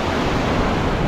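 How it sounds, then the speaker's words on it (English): Ocean waves roll in and break close by on a Fraser Island beach, a loud, continuous wash of surf with a windy edge and no voices. "the white water over that green, darker water that's rolling in and breaking near us at shore"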